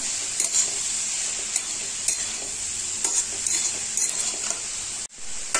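Cauliflower fried with red chili, coriander and cumin powders in a pan for gobi paratha filling, a steady loud sizzle with rhythmic spatula scrapes and taps, close, ending abruptly, no voices.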